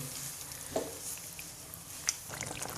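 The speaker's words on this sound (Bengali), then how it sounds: "এবার আমি মাংস আর মশলা একই সঙ্গে অনেক সময় একটু কষিয়ে নেব" Chicken pieces and spice masala sizzle steadily in a pan over high heat, with a soft constant frying hiss and a few faint scrapes and stirring knocks, and no talking.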